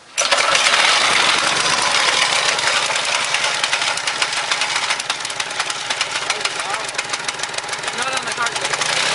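A rebuilt Briggs & Stratton Quantum small engine, previously blown up, fires up and keeps running with a loud, steady, close-up mechanical roar that holds for several seconds.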